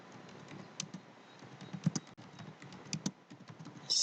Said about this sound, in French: Donc si on tape un texte